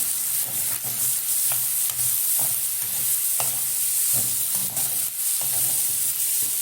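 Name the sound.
stirring two onions frying in a pan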